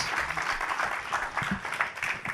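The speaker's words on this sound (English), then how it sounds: "Give Mitch a round of applause." A live audience applauds with dense, steady clapping throughout a short burst, fairly close and lively.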